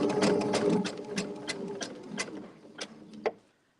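A sewing machine runs in rapid bursts while free-motion quilting a boho floral quilt block, its needle chattering up close before slowing and stopping.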